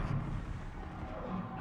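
Warship guns firing in World of Warships, a dense, continuous low rumble of naval artillery lasting under two seconds, fairly faint and steady with no distinct separate blasts.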